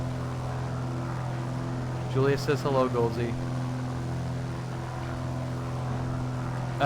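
A steady droning propeller engine of a Piper Archer 2 in a flight simulator hums continuously at an even pitch, while a voice speaks briefly over it midway.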